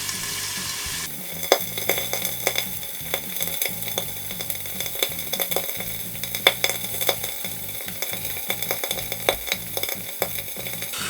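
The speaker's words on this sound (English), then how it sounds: "Now let's add the pork to the pan. We turn up the heat to medium and cook for 3 minutes with the lid on." Pork chops fry in a covered pan over medium heat, giving a steady, dense sizzle with crackling pops scattered throughout, close and continuous without talk.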